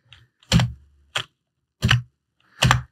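A few separate keystrokes on a computer keyboard, four distinct clicky taps spaced roughly half a second apart in a quiet room, near and crisp.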